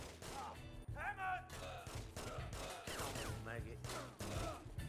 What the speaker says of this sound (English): Why am I instantly getting shot at?